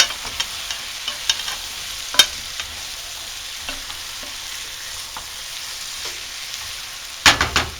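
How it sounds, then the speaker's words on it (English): Onions frying in a very hot pan for chicken cacciatore, stirred with a utensil: a steady low sizzle runs throughout, with sparse scraping clicks and a sharper clatter near the end, close and moderately loud. "Just stir it around so that the onions don't stay on the bottom."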